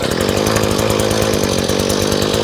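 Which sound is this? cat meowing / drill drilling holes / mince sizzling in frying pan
drill drilling holes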